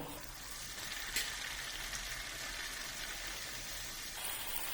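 Bhatura frying in hot oil over a high gas flame, a dense, continuous bubbling sizzle at moderate level with no voices.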